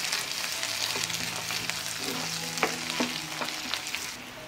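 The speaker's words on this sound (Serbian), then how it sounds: "Promešat ću i propržiti još koji minut." Onion and celery sizzle loudly in a hot pan, a dense continuous frying hiss with scattered utensil scrapes and taps from stirring, close up and without any voices.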